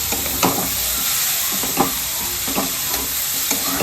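Ginger stirred into a thick mixture in a pan over low heat for Bengali satpuri pitha, with a steady frying hiss and soft spoon scrapes recurring every half second or so, close and moderately loud, no talk.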